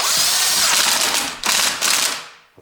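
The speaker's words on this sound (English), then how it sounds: "now I have a little bit bigger socket, 12mm, and my impact driver." Impact driver with a 12mm socket hammering a bolt on a Ford Duratec HE engine, a loud continuous rattling burst that breaks briefly twice, then winds down and stops, very close.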